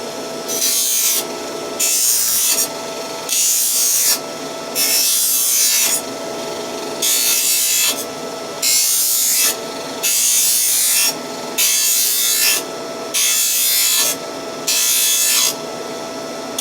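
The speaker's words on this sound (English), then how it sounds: "So now we'll deburr this." A metal plug cut out by a hole saw is deburred with about a dozen loud, evenly spaced rasping strokes, each burst followed by a short pause, close by and with no talk.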